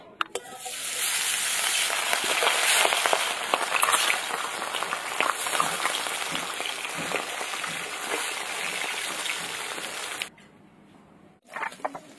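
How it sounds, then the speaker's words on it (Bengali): Small fish, koi or potol fish, frying in mustard oil in a kadai: a loud, dense crackling sizzle running steadily for about ten seconds, then dropping to a quiet hiss before a brief clatter. "মাছ ভেজে নেবো।"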